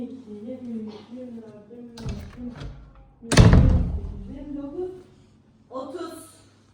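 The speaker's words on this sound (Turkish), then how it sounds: "Kapı sesi geldi." A door shuts once with a sharp, loud thud indoors during a family game of hide and seek, set among children's and an adult's voices talking before and after.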